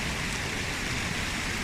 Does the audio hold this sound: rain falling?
yes